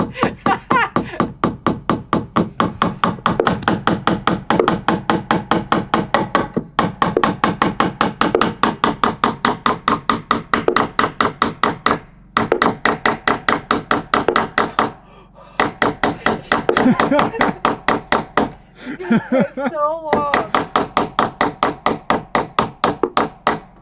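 A nail is hammered into wood while building an outdoor shower in Alaska, producing dozens of sharp, rapid, evenly spaced blows close by, with a few brief pauses and a voice speaking over the strikes.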